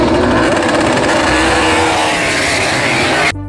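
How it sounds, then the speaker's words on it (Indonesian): A toy racing motorcycle gives off a loud, continuous engine-like roar resembling a revving motor, steady for about three seconds before cutting off abruptly near the end. "Wow, motor balap."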